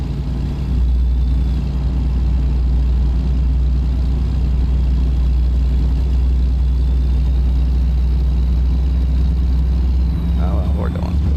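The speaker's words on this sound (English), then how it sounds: "the engine sound for, I believe it's the K100" Steady low diesel drone of a Kenworth K100 truck engine in a truck-driving video game, cruising at an even pitch throughout at close range, with no talk over it.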